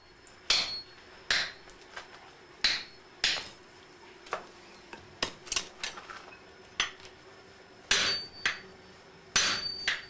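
A smith hammers steel for a traditional Japanese katana, ringing metallic blows struck in an uneven rhythm of about fifteen hits, some in quick pairs, close and clear with no voices.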